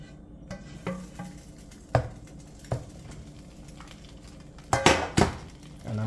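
Cheese sauce stirred into drained pasta in a metal pot, with sporadic scraping clinks and clanks of a utensil against the pot, a few sharper knocks standing out from a quiet background.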